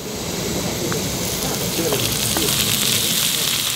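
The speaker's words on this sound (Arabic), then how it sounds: "الحين نحط الزيت" Cooking oil sizzling in a hot pan while making Kuwaiti machboos, a steady crackling hiss with faint speech in the background.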